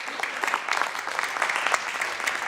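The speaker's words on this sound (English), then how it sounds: "I would also ask that we give another round of applause to these extraordinary women." Audience applause for the Survivor Sisters at a California State Senate recognition, steady dense clapping from a crowd lasting the whole moment without a break.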